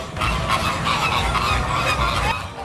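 Flamingos squabbling at SeaWorld San Diego, a dense chorus of loud, nasal honks and gabbling calls overlapping continuously, close and busy, with no talk.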